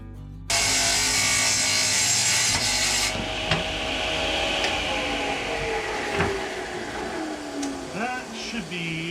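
A table saw starts abruptly and rips wood along its rip fence, giving a loud, steady whirring cut with shifting tones and small knocks as the board feeds through.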